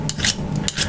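A card scraper edge is burnished to restore the burr: two quick, close rasping strokes of steel on steel, each a short bright scrape with a brief pause between.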